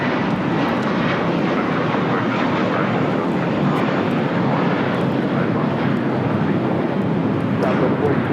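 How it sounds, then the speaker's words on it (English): A JetBlue Airways Airbus A321 takes off at LAX with a loud, continuous roar of jet engines and broadband rushing noise that stays steady throughout, with wind buffeting the microphone. "This is JetBlue Airways Flight 100 taking off to Fort Lauderdale on an A321."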